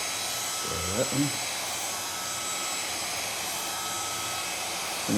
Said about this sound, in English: Okay, I'll get our hair dryer out.